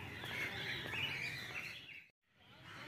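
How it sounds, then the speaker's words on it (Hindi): Captive parrots at Kanpur Zoo give faint, distant chirping and squawking calls over a steady ambient hum, with a brief drop to near silence toward the end. "ये तोते पले हुए हैं इसमें।"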